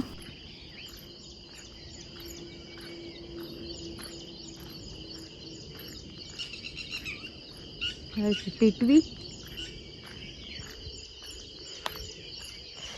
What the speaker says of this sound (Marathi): सकाळी सकाळी एवढा पक्ष्यांचा आवाज एवढा छान वाटतंय ना